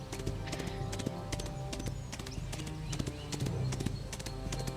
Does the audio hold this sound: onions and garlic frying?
no